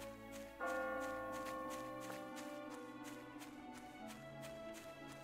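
Bells chiming in the game My Time At Portia, a struck tone ringing out and sustaining with a steady pulse of softer repeated clicks underneath, fairly quiet overall.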